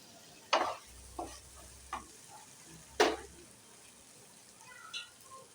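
Rice, potatoes and fish heads being turned in a pan of hot oil: a handful of separate spatula scrapes at uneven intervals over a faint, steady frying hiss, with no talking.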